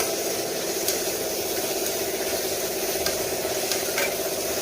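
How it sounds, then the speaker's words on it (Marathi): Moringa leaves frying in oil with softened onion give a steady, even sizzle that holds through the whole stretch, with a few faint clicks of stirring and no voices. "आता आपण ही भाजी टाकूया आपली आणि तिला आपण तेलात मस्त फ्राय करून घेऊया."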